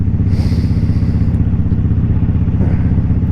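A Harley-Davidson Crossbones motorcycle rides on a winter road, its loud, close engine giving a steady low rumbling throb mixed with wind rush and no talk.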